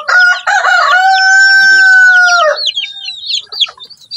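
Backyard chickens in a small home coop: a rooster crows loudly and close, with a long drawn-out call, followed by scattered clucks and high chick peeps.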